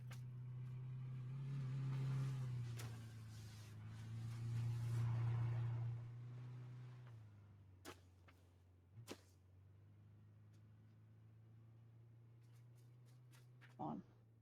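A car engine in the video game PUBG drones with a low, steady hum that rises and falls as it revs, fading after several seconds, while a few sharp clicks and knocks sound.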